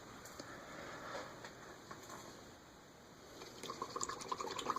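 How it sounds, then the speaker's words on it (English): An acrylic paint brush is rinsed in a water pot, giving faint close sloshing and light dripping. Small splashy taps grow busier toward the end. "Rinsing out the brush."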